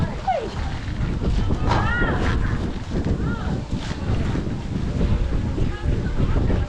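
Steady wind buffets the microphone in a continuous rushing roar, with voices and some squeaky sounds briefly heard underneath.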